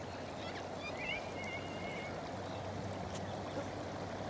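Rainwater running over thirsty ground after a heavy downpour in hot January weather, a steady, close, continuous wash of flowing water like a small stream, with faint higher trickles and no voices.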